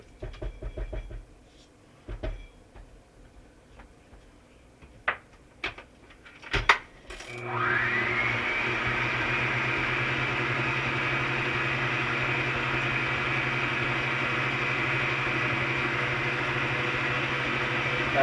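Electric mixer running steadily for about ten seconds, blending butter for oatmeal raisin cookie dough, after a few clinks and taps of utensils against the bowl.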